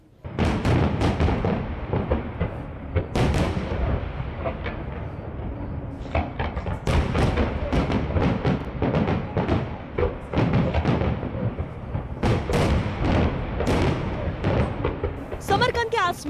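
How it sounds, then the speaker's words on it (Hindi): Fireworks bursting over Samarkand during the 2022 SCO Summit, a long run of loud booming explosions and crackles, some overlapping and some spaced by brief gaps, with a voice talking over parts. "समरकंद के आसमान में सतरंगी पटाखे रोशन हो रहे थे"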